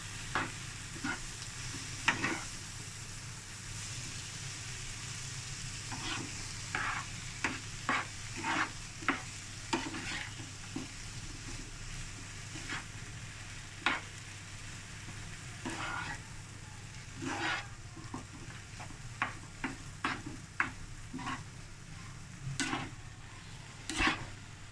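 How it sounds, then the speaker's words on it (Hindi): Coriander, mint, green chilli and spring onion greens stirred into a potato samosa filling in a pan, a steady soft sizzle under repeated scraping, clicking strokes of a spoon, close and moderately loud with no talk. "ऐसे ही इसको मिक्स करते हुए 2 से 3 मिनट हम इसको पकाते हैं"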